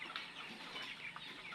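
A flock of young farm chickens, some with colds after damp weather, clucks and chatters softly and continuously at a distance, with no talk over it.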